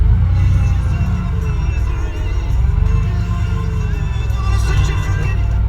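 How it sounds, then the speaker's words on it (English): The car radio in a 1994 Chevrolet Astro van plays a busy broadcast with crowd-like cheering and voices, steady and fairly loud over the van's low engine rumble. "radio works."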